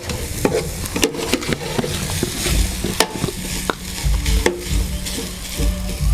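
Rice being stir-fried in a pan with sauce, fish sauce and sugar added, giving continuous sizzling with frequent scraping and clacking of a utensil against the pan, close and fairly loud.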